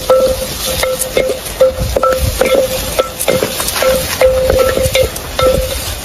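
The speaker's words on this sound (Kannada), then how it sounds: "ಈರುಳ್ಳಿ ಬ್ರೌನ್ ಕಲರ್ ಆಗೋವರೆಗೂ ಹುರ್ಕೋಬೇಕಾಗುತ್ತೆ" Onions fry slowly over low heat in a new clay pot, a soft continuous sizzle broken by repeated stirring scrapes and knocks, close by, with no talking.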